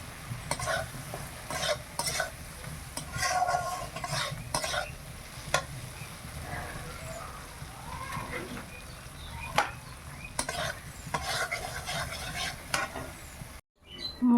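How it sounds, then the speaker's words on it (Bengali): Potatoes fry in a pan with spices while being stirred, a loud steady sizzle broken by repeated scraping strokes of a utensil, close by and without speech. "মশলা ভাজা হয়ে গেছে ভালো করে"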